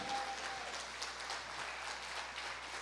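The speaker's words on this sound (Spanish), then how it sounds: "¿Cuántos les pueden dar un fuerte aplauso al Señor?" Church congregation at a Spanish-language family service giving a loud round of applause, a dense, even patter of many hands heard from a distance for the full few seconds, no voices on top.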